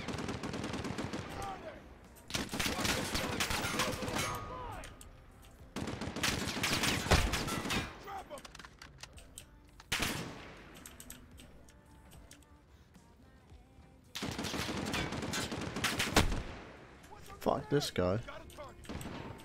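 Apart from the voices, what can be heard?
machine gun fire in Call of Duty: Modern Warfare video game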